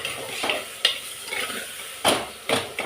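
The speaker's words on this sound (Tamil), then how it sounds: "தக்காளி நல்லா வதங்கட்டும்" Tomatoes sautéing in a pan for bitter gourd sambar give a soft sizzle close up, broken by several scraping stirs of a spoon against the pan. No one speaks.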